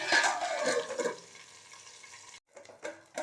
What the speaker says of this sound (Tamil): ஒரு 3 நிமிஷத்துக்கு ஒரு ட்ரிப்பு லைட்டாக இந்த மாதிரி பரட்டி விட்டுட்டே வந்தோம்னா வெந்து வந்துடும்